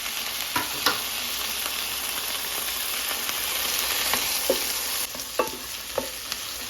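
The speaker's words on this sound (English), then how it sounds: "Okay guys, I will put my tomatoes." Tomatoes dropped into a pan of frying garlic and pork set off a steady close sizzle, broken by several sharp scraping stirs and spatula knocks at irregular intervals.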